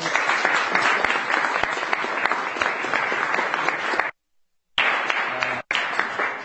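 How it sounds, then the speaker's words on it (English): Applause at a Boston City Council meeting as a woman comes up to accept a resolution, a dense wash of many hands clapping, broken by two abrupt silent gaps before resuming. "Give her a round of applause."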